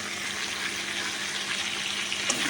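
Tomatoes added to frying potatoes in a pan, giving a steady, even broadband sizzle that runs throughout with a slight flare near the end, close and fairly soft, with no talking.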